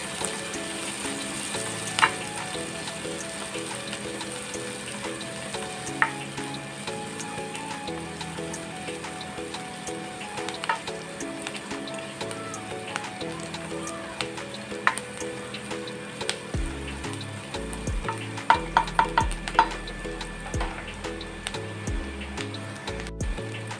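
Chopped garlic frying in hot oil in a pan for drumstick curry, a loud, steady sizzle with occasional stirring scrapes and clinks, close up and continuous with no talk.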